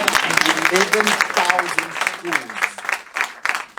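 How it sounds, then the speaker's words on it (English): An audience at a schools sponsorship announcement breaks into a round of applause, a dense crackle of clapping that runs under someone speaking loudly into a microphone. "Come on, a big round of applause."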